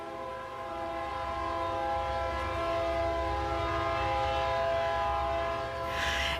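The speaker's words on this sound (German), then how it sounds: "Wir hörten ständig die Züge vorbeifahren." A train rumbles past close by, its horn blaring in one long, steady, loud chord for nearly the whole stretch.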